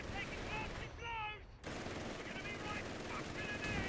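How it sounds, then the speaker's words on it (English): Gunfire from a Company of Heroes 3 match, rapid bursts of machine-gun and rifle fire in the game's battle din, with a caster talking over it. "They're shooting everything."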